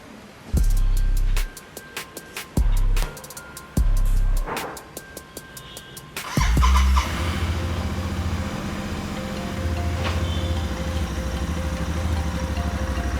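A Royal Enfield 650 twin motorcycle, a GT 650 or Interceptor 650 after a tappet noise fix, is cranked several times and then starts, settling into a loud, steady idle that holds close by for several seconds.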